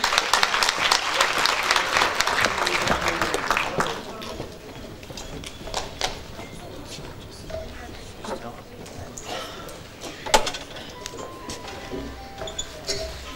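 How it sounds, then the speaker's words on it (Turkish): Audience applause at a memorial gathering for a folk poet in a cemevi in Ümraniye, dense and loud for the first few seconds, then fading into scattered claps and room noise. "Konuşmasını yapmak üzere Kadın Kolları Başkanımız Sayın Nurşen Düzenli'yi alkışlarınızla kürsüye davet ediyorum."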